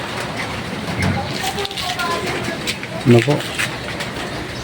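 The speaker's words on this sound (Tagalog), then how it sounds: "malakas ang bagsak ng ulan" Heavy rain pours steadily as a dense, constant hiss beneath someone talking, with a brief cooing bird call near the middle.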